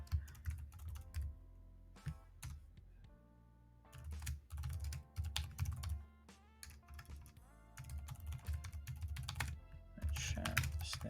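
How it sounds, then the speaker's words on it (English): Computer keyboard typing in bursts of quick, crisp clicks with short pauses between runs, close and moderately quiet, with a faint low hum underneath. "I don't know if you guys can hear me typing"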